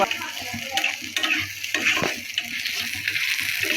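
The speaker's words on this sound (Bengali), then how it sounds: "তো রসুন আর পেঁয়াজ দিয়ে দিছি বাগারের জন্য।" Garlic and onion fry in hot oil for a tempering, giving a steady bright sizzle with occasional soft clicks and scrapes of stirring.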